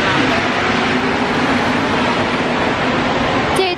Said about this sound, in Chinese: 我们现在就是在地铁里等着要坐地铁了